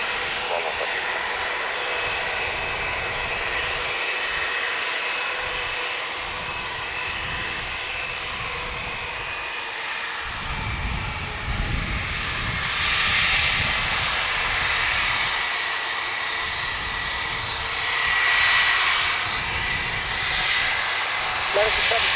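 Airplane engines at Dublin Airport drone steadily near the runway, a broad continuous roar that swells louder partway through, with a faint whine above it.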